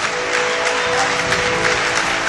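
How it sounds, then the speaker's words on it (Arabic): Warm applause from the audience at a United Nations address by the Egyptian president, a continuous, loud wash of clapping throughout, with a steady tone running underneath. "ورددها خلفه الحضور وسط تصفيق حار"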